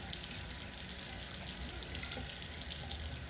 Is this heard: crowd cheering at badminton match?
no